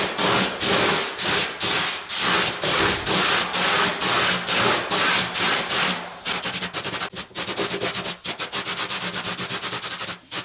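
Spray paint hisses onto Yamaha Aerox scooter plastics as a thick second coat goes on, loud close bursts in a regular on-off rhythm, then shorter rapid spurts toward the end.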